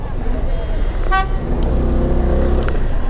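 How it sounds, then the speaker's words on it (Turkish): Busy road traffic in Turkey, with a steady low engine rumble and a brief car horn toot in the middle, plus another faint honk near the end, loud and close throughout. "O trafiğe bakar mısın ya?"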